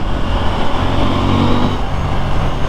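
A KTM Duke 890 R motorcycle engine revs on the throttle, a loud, close, rough growl with pulsing surges that swells and eases over a few seconds.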